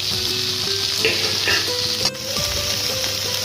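Potato, cauliflower and curry leaves frying with onion in a pan while being stirred, a loud, continuous close-up sizzle broken by occasional spoon scrapes against the pan.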